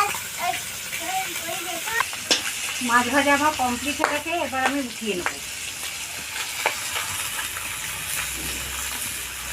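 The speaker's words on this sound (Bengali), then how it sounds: "বাকি মাছগুলো এইভাবেই ভেজে নেব" Tengra fish frying in hot oil gives a steady close sizzle and crackle that runs through the whole clip, with a voice speaking over it in the middle.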